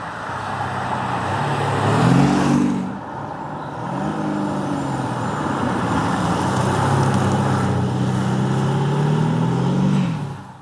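An Audi SQ5 V6 TDI SUV cruises at about 200 km/h, giving a loud, steady road and wind roar with an engine hum that rises and dips slightly over the drive.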